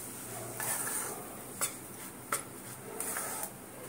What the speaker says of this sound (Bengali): নুন আর সুজি আর বেসন, এটা হালকা করে নাড়িয়ে নেব।